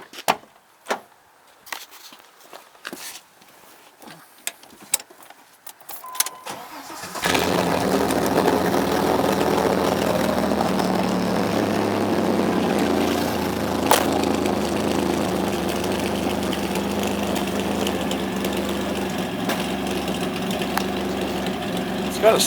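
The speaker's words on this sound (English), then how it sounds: "Got a sweet sounding idle." A 1992 Plymouth Duster V6 cranks with a few sharp clicks and clunks, catches, then settles into a loud, steady, raspy idle that holds for about fifteen seconds.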